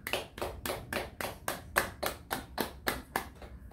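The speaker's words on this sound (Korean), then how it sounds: "우리 다 같이 하나님 앞에 영광의 박수 드리고 예배 시작하도록 하겠습니다" Church congregation claps in unison before worship, about eleven strong, evenly spaced claps in a steady rhythm, fairly close and alone without talk.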